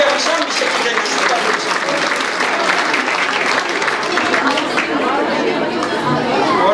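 Audience at a women's breakfast gathering clapping continuously, dense applause mixed with crowd chatter and voices throughout.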